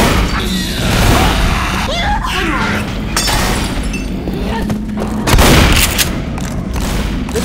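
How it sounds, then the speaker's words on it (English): Shotgun blasts in the zombie shooter Left 4 Dead, booming under steady game noise with a heavy burst near the end, while players talk over the action. "This shotgun has a nice range."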